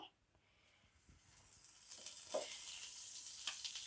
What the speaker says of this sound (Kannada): ಮೆಣಸಿನ್ಕಾಯಿಯನ್ನು ನಾನು ಹಾಕ್ಕೊಂಡಿದ್ದೀನಿ ನೋಡಿ. ಅವನ್ನು ಕೂಡ ಹುರ್ಕೊಳ್ಳೋಣ.